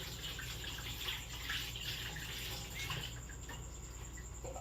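Tap water runs steadily in a home kitchen while washing up, a continuous close hiss of flowing water with faint rattles, no one speaking.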